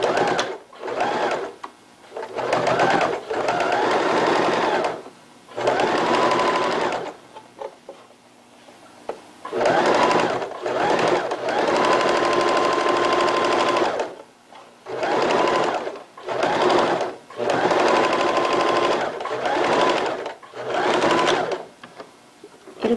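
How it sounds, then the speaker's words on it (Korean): A sewing machine topstitches the waistband of a leggings skirt, running in about a dozen bursts of rapid, even whirring separated by short pauses, close and clear with no voices. "상침 박음질 하겠습니다."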